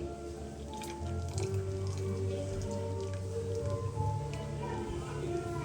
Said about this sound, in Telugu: నేను అన్నాన్ని అయితే వేసేస్తున్నాను. ఇట్లా ఒకే చోటు కాకుండా పొరలు పొరలుగా